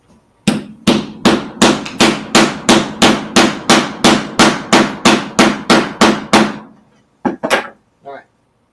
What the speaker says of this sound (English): I'm just going to get the hammer and knock the hell out of this.